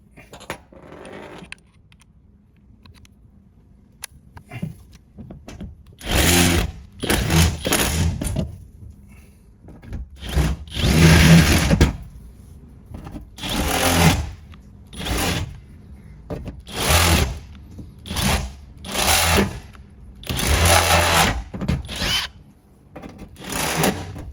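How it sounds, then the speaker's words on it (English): Jigsaw cutting a hole for a Max air fan outdoors, heard as a string of loud, buzzing bursts of a few seconds each with short pauses between them, close by with no talking. "And now with the jigsaw, actually the easiest is the jigsaw."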